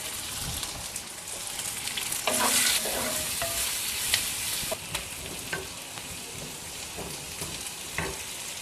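Mint leaves and tomatoes fry and sizzle in a pan for a Tamil kovakkai (ivy gourd) gravy, with a steady close hiss and occasional stirring scrapes, no voices.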